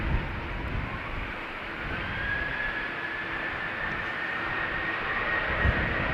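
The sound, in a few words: Smartwings Boeing 737 spooling up and taking off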